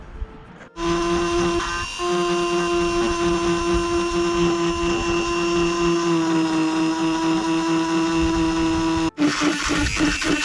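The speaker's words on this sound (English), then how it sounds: "All we've got to do now is countersink it a little bit." A power drill countersinks a hole on a sailing boat, giving a loud, steady high-pitched whine that runs for about eight seconds between a sharp start and an abrupt stop, with faint movement noise afterward.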